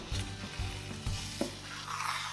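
An egg and tomato omelet fries in a covered non-stick pan, giving a steady, soft sizzle with faint bubbling pops throughout.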